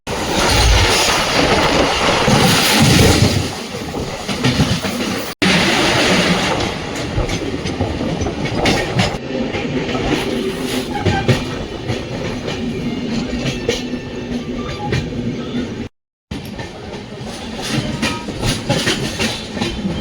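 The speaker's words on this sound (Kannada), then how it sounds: "ಟ್ರೈನ್ ನಂಬರ್ 16592 ಮೈಸೂರು ಹುಬ್ಬಳ್ಳಿ ಹಂಪಿ ಎಕ್ಸ್ಪ್ರೆಸ್ಸಲ್ಲಿ ಇವತ್ತು ನಾವು ಟ್ರಾವೆಲ್ ಮಾಡ್ತಿದ್ದೇವೆ" The Hampi Express, train number 16592 running from Mysore to Hubballi, is heard from onboard as a loud, continuous rumble with rhythmic clickety-clack of wheels over rail joints and rattling of the carriage, briefly interrupted by a short silent gap.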